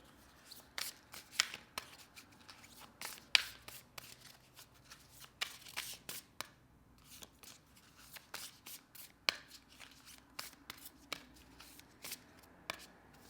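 Tarot cards are shuffled by hand close up, a series of crisp riffling and slapping bursts in an irregular rhythm with short quiet gaps between them, fairly soft and with no voices.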